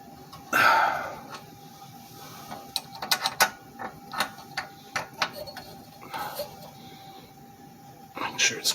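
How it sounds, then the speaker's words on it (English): Metal wrench tightening a carburetor bolt on a 3hp Briggs and Stratton engine, giving a string of close, sharp ratcheting clicks and taps in short bursts, with brief talk at the start and end. "till you gotta use a wrench to snug it"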